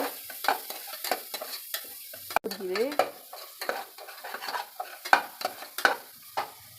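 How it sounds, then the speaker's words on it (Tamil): Ginger garlic paste sizzling in a pan with repeated scraping and stirring strokes, close up, while making a mutton masala; a brief word is spoken partway through. "இஞ்சி பூண்டு பேஸ்ட்டு நல்லா பச்சை வாசனை போகிற வரையும் நல்லா வதக்கிக்கோங்க"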